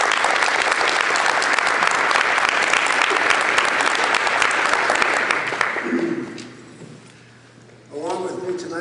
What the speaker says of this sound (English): Maybe we can just have a quick round of applause for Don and Kathy and the rest of their team